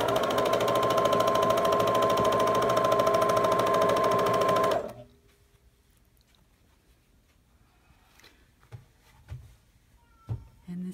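A sewing machine chain-pieces fabric in a fast, steady close-up run that stops abruptly partway through, leaving a near-silent room with a few faint taps and soft rustles.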